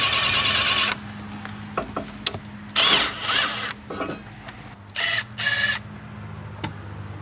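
Short bursts of a power tool working a bolt on a car engine, several separate whirring spurts spread across a quiet stretch, loud and close, with faint clanks in between.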